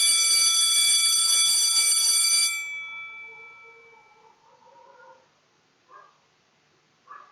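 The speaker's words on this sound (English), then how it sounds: "It is the sound of recess getting over." A bright, ringing electric school bell signals the end of recess, sounding loudly for a couple of seconds, then cuts off and decays, followed by a few faint meows.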